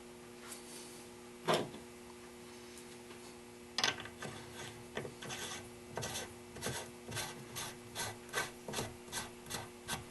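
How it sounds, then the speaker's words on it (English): An A2 flash hider being threaded back onto a rifle muzzle gives close metallic scrapes, rasps and sharp clicks, starting sparse and turning into a steady rhythmic series of ratcheting strokes, with no talk. "we're going to reinstall our A2 flash hider"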